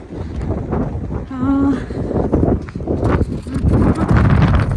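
Strong wind gusting hard into the microphone outdoors during snowfall in Edmonton, loud buffeting rumble that keeps surging, with a person talking through it.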